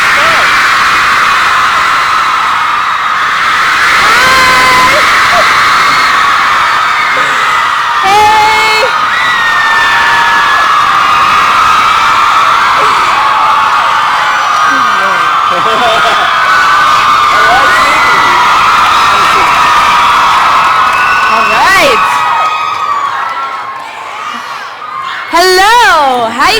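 A large high school audience at an assembly with a visiting singer screams and cheers loudly and continuously, with shrill whoops and shouts rising throughout and a brief lull near the end.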